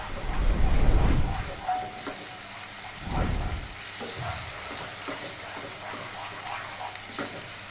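Tomato paste sizzling in a pan with ginger, garlic and chili paste for dhaba-style chana masala, a steady frying hiss with heavier stirring scrapes near the start, close and without talk.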